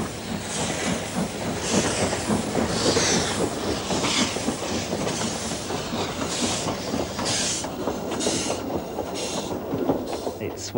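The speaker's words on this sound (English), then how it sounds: "you've got this unique vintage railway system" A vintage steam train on the Isle of Man railway rolls past close by in a loud, continuous rush. Rhythmic wheel clatter and hissing steam run through it, and faint talk is mixed in.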